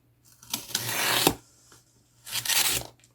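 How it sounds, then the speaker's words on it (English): A utility knife draws along a ruler held tight over a material, giving two drawn-out scraping strokes, the first about a second long and the second shorter, close by and fairly loud, with no talk. "So hold ruler tight and let the knife do the work"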